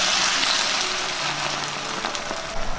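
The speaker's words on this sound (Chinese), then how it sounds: "然后淋入开水。" Boiling water is poured into a flat frying pan of fried fish with garlic, ginger and dried radish, producing a loud, dense hissing rush that tapers slightly, with faint music beneath.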